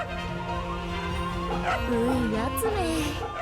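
A dog in the video game Fate/Samurai Remnant gives soft yips and whimpering whines over game music, the short rising cries repeating near and clear for a few seconds.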